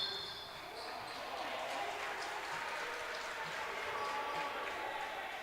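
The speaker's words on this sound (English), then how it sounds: "Coach Urso getting everybody fired up, lots of claps." Spectators at a high school basketball game, Central Catholic against Seneca Valley, keep up a steady patter of clapping that fills the gym at a moderate, even level.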